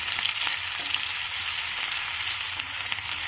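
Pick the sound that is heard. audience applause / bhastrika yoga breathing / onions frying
onions frying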